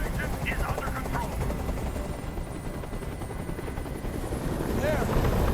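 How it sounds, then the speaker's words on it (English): A helicopter hovers in Detroit: Become Human, its steady rotor chop and engine drone filling the scene continuously at moderate loudness, with voices faintly over it. "I can't stand that noise anymore. Tell that helicopter to get out of here."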